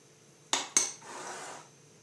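A spoon clinks twice against a bowl or jar while scooping blue food colouring for mini cakes, two sharp, close metallic taps followed by a soft scraping rustle, quiet and without talk.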